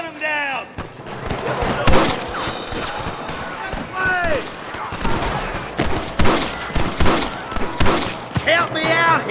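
Repeated gunshots ring out in a Red Dead Redemption shootout, sharp irregular cracks scattered throughout, loud and close, over shouting voices.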